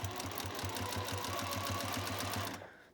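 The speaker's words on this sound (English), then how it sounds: "Bring it back to my machine, and I just start right on the edge with my generous 1/4 inch seam and start going." Domestic sewing machine stitching quilt binding at a quarter-inch seam, a fast steady mechanical chatter with an even rhythmic pulse running close and loud before stopping abruptly.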